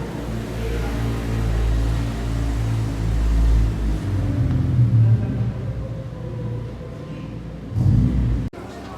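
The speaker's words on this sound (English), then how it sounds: "NSX number 2 rolled in." Second Honda NSX sports car rolling into a secret underground car meet in Japan, a steady low engine rumble and tyre roll echoing in the enclosed space, rising briefly near the end.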